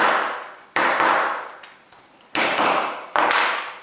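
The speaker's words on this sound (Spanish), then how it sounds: "O con un simple martillazo." Several sharp metallic hammer impacts ring out as two metal pieces are knocked together in a school technology workshop, each followed by a decaying ringing tail, in an uneven rhythm of heavy blows and lighter taps.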